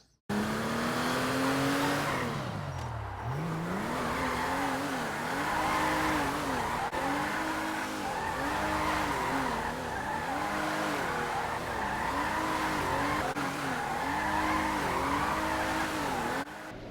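Benefactor Vorschlaghammer, a modified tuned car in GTA 5, revving loudly as it drives and skids, its engine note rising and falling in repeated waves with tire squeal throughout, close and continuous.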